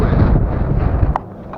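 Strong wind buffets the microphone on a low-tide shore, a loud continuous broadband rumble with gusting swells, easing slightly near the end after a brief higher burst.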